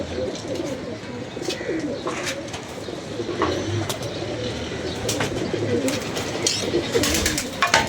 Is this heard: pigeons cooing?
yes